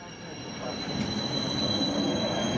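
A passenger train travelling from Italy to Austria runs on its rails with a steady rumbling roar and a high metallic wheel whine that builds slightly over a few seconds.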